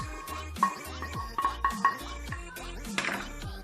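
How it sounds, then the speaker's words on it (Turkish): Melted butter goes into ground biscuits for a lemon cheesecake base and gets stirred, giving close, repeated scraping and soft clinking strokes in a brisk uneven rhythm, alone without talk. "Erittiğimiz tereyağını daha önceden öğütmüş olduğumuz bisküvinin içine döküyoruz"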